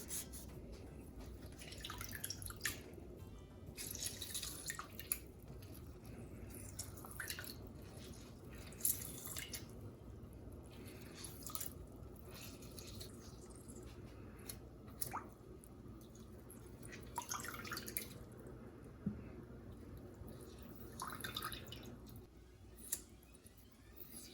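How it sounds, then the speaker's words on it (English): Two washed limes are cut and squeezed into a ginger beer mixture, producing soft wet squishes and scattered drips at close range, quiet and irregular. "I'm going to cut them over and squeeze them into my recipe over here."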